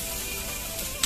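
Curry leaves, mustard seeds and red and green chilies sizzle in hot oil, a steady close frying hiss with a small pop at the end.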